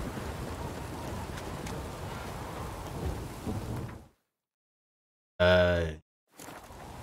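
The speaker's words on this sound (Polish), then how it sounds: "Może przestanie padać." Steady rain hisses across the ground in The Witcher 3: Wild Hunt, continuous and moderately loud, then cuts to near silence before a short tonal burst and the rain's return.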